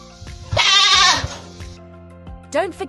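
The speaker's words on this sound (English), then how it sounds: "Sound of a goat." A goat bleats in a loud, wavering cry near the start, with a second shorter bleat at the end, close and without talk.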